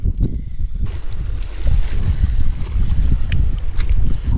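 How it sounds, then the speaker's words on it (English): Strong, cold wind buffets the microphone in continuous gusty roars at a dam on a trout fishing trip, with no one speaking. "it is too windy, too cold to fish right now"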